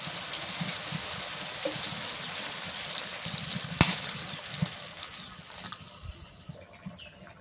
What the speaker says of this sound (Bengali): একটু পানি দিই।